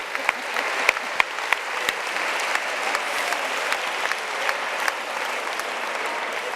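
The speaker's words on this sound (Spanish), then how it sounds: "Un aplauso para ellas" An audience at a reading clubs' gathering in Galicia claps steadily, a moderate, even roomful of applause with a few sharper individual claps standing out, lasting several seconds with no voices over it.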